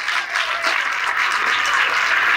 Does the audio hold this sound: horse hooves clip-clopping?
no